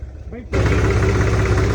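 A New Holland tractor engine runs at low throttle in low gear, cutting in after a brief quieter moment with a faint voice, then holding a loud, steady, throbbing rumble close by.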